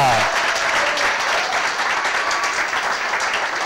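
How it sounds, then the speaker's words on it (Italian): Steady, dense applause from a large crowd filling the whole stretch, loud and unbroken. "Un grande applauso, forza!"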